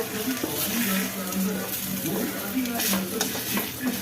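Eggs being stirred in a pan for egg pepper podi, a steady scraping and clinking of a utensil against the pan with a low sizzle underneath, continuous and close.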